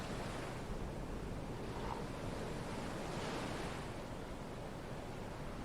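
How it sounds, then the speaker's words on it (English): Steady roar of ocean surf washing in continuously, with broad wind-like hiss and gentle swells in intensity; no voices. "One of the things I can do is concentrate on the waves."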